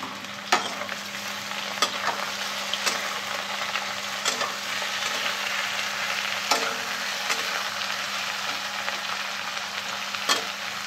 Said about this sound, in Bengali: কপি ডাঁটাগুলো সেদ্ধ করা হয়েছিল, এবার এগুলো দিয়ে ভাজবো।